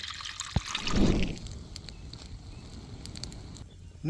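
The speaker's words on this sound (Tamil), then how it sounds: "நிறம் மாறாமல் இருக்கிறதுக்காக நம்ம வந்து தண்ணி ஊற்றி வச்சுக்கிறோம்" A short splash of water poured over crushed turkey berries in a container, gurgling briefly before fading into a faint trickle and quiet background.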